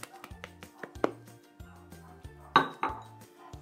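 Cocoa powder being mixed into chocolate cake batter in a bowl, a quick run of light clinks and taps of utensil on dish, irregular and close, with a couple of sharper knocks.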